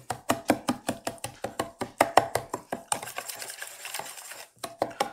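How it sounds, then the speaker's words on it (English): Peanut butter sauce for keto pad thai whisked briskly in a bowl, a fast, steady run of close ticking strokes against the sides for about three seconds, then a softer rustle and a few final taps. "Just break it up as much as you can. Give it a nice good whisk."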